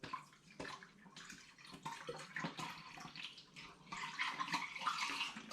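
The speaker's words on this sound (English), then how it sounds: "Now I'm going to take my final litre of apple juice and top up the fermenting vessel." Apple juice pours steadily through a funnel into a fermenting vessel while making pomegranate-flavoured hard cider, a continuous splashing, gurgling liquid stream that swells louder toward the end.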